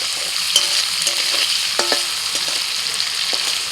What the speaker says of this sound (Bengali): এবার চিংড়ি মাছগুলো ভেজে নিচ্ছি।